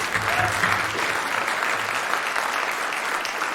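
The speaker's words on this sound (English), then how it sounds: "That's a cute applause." An audience at a college president's investiture ceremony applauds steadily, a dense, even patter of many hands that holds at full strength throughout.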